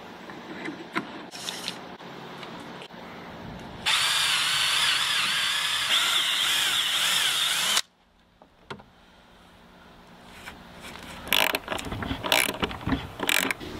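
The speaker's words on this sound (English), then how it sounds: "And then a lock nut and a washer, and we'll tighten that." A power tool tightens a carriage bolt with a lock nut and washer while legs are fitted to a van bed, a steady whirring run of about four seconds between clicks, then ratcheting and handling clatter close by.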